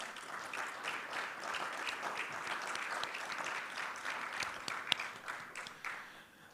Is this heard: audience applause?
yes